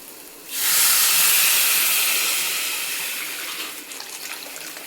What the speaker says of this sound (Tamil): இப்போ அந்த தண்ணி இதில் முதல்ல சேர்த்துட்றேன்